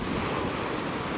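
Stormy sea surf breaks on a beach under strong wind, a loud continuous wash with wind buffeting the microphone.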